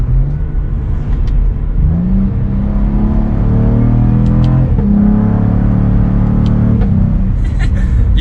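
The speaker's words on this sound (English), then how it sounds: "You can hear some pops in that exhaust." A sports sedan engine on a track revs and rumbles under paddle-shifted gear changes, with a few sharp crackling pops from the exhaust between the pulls.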